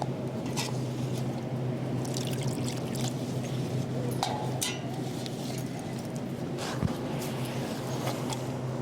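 Water pouring into a dog's bowl, a continuous close splashing stream running steadily throughout with a few brief clinks and drips, no talking over it.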